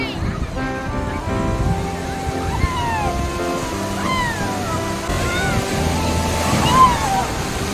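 Beach surf washes steadily in the background while children's high voices squeal and call out as they play in the water close by, the waves forming a constant wash beneath the chatter.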